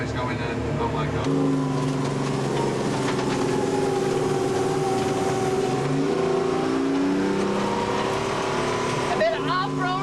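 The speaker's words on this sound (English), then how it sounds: "A bit of off-road driving" A car engine drones steadily through off-road driving, its pitch rising and falling as the driver works the throttle, close and loud throughout.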